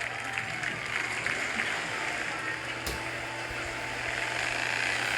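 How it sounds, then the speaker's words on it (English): A crowd at an event applauds with dense, steady clapping that stays even and fairly loud throughout, with faint voices mixed in. "Everybody give her a big round of applause."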